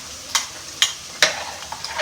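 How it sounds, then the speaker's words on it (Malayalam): Chicken curry frying in a pan with crushed ginger, garlic and green chilli: a steady sizzle with a spoon scraping and stirring in regular strokes, close and fairly loud. "ഇഞ്ചി വെളുത്തുള്ളി പച്ചമുളക് കൂടി ചതച്ച് വെച്ചിട്ടുണ്ടായിരുന്നു. അതും കൂടി അത് തട്ടി വെക്കുന്നു."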